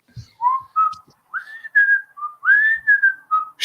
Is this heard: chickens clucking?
no